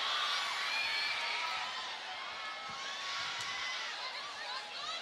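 A large concert crowd in Los Angeles at a live hip-hop show cheers and shouts in a steady, dense roar, with whoops and high screams rising over the sustained noise throughout.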